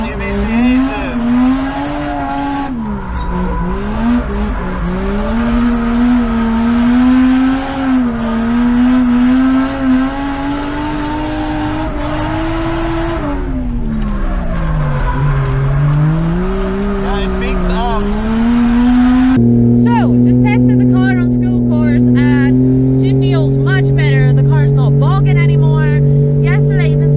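A drift car on fresh tires slides around Ebisu circuit, its engine droning and rising steadily while the tires squeal through the slide, with a voice briefly heard over the noise.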